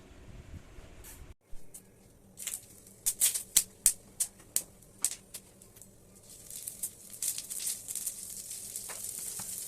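Whole pointed gourds (potol) fry in oil for dahi potol, giving a soft steady sizzle with a run of sharp spatters and pops in the middle, then a denser crackling hiss toward the end.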